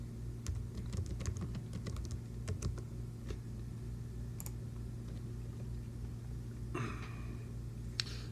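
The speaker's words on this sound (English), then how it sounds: "we can also type information" Steady typing on a computer keyboard while configuring trading software settings, with rapid clustered key clicks over a constant low electrical hum, close and moderately quiet.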